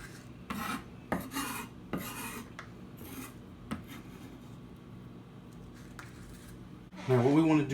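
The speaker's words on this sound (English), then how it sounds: "You want to mince this up rather fine." A knife taps and scrapes rhythmically on a cutting board, finely mincing food for Korean crispy chicken wings, quick irregular chops close by, followed by a short burst of louder rustling at the end.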